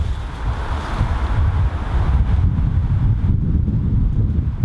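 Steady, loud rushing wind in the video game Bloodborne fills the scene, a broad roaring hiss with slight gusting swells and no voices.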